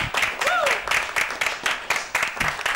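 Livestream audience applause for a charity donation during a Cuphead speedrun, a steady patter of many hands clapping in quick rhythmic bursts, close and fairly loud, with a voice faintly underneath.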